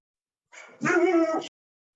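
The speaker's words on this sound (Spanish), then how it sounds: "pero empezó a ladrar mi perro" A dog barks once or twice at close range, a single loud, drawn-out bark with a short lead-in, alone against silence.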